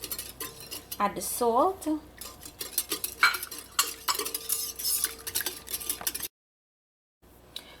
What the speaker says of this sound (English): Break in the egg and add the rest of the sugar. Give that a mix.